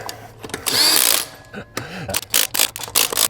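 A Ryobi power tool with a chrome socket tightens the lug nuts on a reinstalled wheel, with a loud whirring burst followed by several short ratcheting bursts close by.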